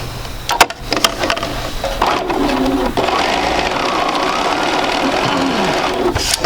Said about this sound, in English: So I'm just going to chain piece these 2 together, and this will go pretty quickly, hopefully.